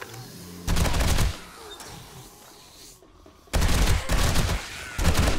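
Bursts of rapid automatic fire from an M60 machine gun in the game 7 Days to Die with the Tongo mod: a loud burst, a pause, then two more close, heavy bursts.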